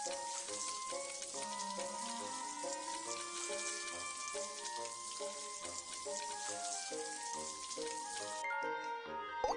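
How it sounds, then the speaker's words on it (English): Water runs steadily from a tap to rinse a scalded arm in a cartoon first-aid scene, a continuous bright splashing stream mixed with soft musical tones underneath, ending abruptly. "Rinse with clean water to cool the wound."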